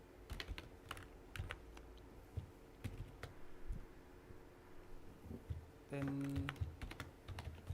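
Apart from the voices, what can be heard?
typing code on a computer keyboard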